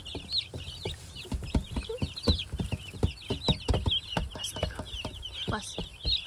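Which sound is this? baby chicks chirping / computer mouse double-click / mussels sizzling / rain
baby chicks chirping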